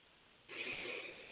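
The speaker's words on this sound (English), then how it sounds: "Breathing in deep." A soft deep inhalation through the nose during guided meditation, starting after a quiet pause and swelling into a breathy rush that slowly fades.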